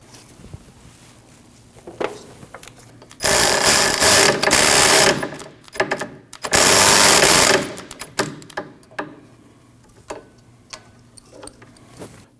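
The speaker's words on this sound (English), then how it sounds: "Install your 12mm bolt and tighten it." A ratchet tightening a 12mm bolt on the speed sensor of a 2003-2008 Subaru Forester, heard as two loud, fast buzzing ratchet runs of a few seconds each, with scattered metallic clicks and clunks around them.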